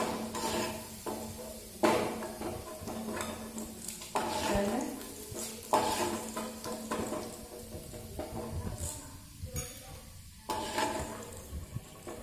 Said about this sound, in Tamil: இப்போ நம்ம உளுத்தப்பருப்பை வறுத்து எடுத்துக்குவோம்.